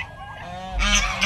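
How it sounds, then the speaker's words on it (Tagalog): Geese honk loudly and repeatedly at close range, several harsh calls overlapping in a short noisy burst. "Ang ingay yung aking mga gansa."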